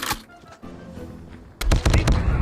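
Gunfire in the mobile shooter game Call of Duty Mobile: a lone sharp shot, then a rapid loud burst of automatic fire near the end.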